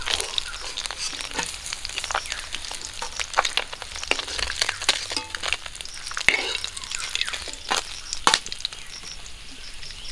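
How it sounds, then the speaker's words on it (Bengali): Whole fish, cleaned but left intact, frying crisp in hot oil in a home kitchen for a fish curry, giving a steady close sizzle with scattered pops and crackles throughout. "মাছগুলো একটু কড়া ভাজা করে নেব"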